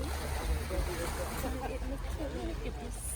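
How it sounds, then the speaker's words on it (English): Water at a beach, a steady, full wash of waves and surf with low rumble, moderately loud and continuous, with voices faintly mixed in. "The water sounds nice."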